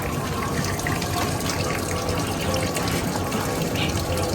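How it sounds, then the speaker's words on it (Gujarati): Water gushes steadily from a borewell pump outlet, a dense, continuous rushing splash at close range with no pauses. "બોર ચાલુ લાગે"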